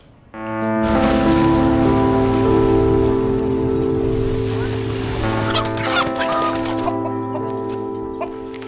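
A loud, sustained rooster-like crow rings out close by, harmonic and drawn out, fading over several seconds with clucking and rustling after.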